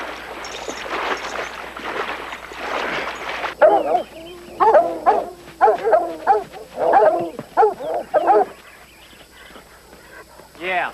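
Hunting dogs bark and yip in a rapid, uneven series, fairly close and loud, following an earlier stretch of people talking.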